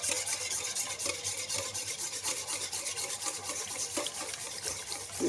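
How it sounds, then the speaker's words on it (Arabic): Five eggs being beaten by hand with 200 grams of sugar in a bowl, a steady, close, continuous wet whisking and scraping with no talking. "نضربوا السكر مليح مع البيض"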